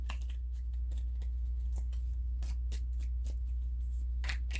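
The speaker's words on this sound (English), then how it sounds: "shuffling the cards" Tarot cards being shuffled by hand at a table, soft, quiet riffling and papery flicks in irregular bursts over a steady low hum, with no talk.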